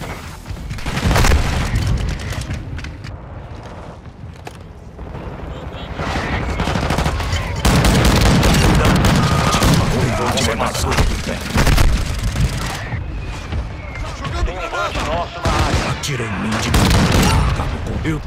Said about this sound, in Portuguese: Ataque de morteiro aliado a caminho.